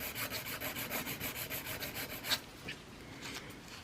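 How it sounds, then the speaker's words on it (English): A file scrapes back and forth along the side wall of an acrylic nail enhancement, steady quiet rasping strokes in a fast even rhythm that pause near the end, close up with no talking. "So with my normal filing routine, going down the side"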